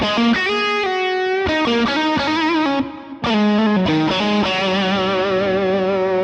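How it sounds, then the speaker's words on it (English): Electric guitar lead played through a Vox AC30 amp with stereo tape delay: sustained distorted melodic notes with bends and vibrato, loud and close, echoes trailing each phrase, a brief gap near the middle, no talking. "I guess what we need to make this a better lead sound is some delay. So let's use some stereo tape here."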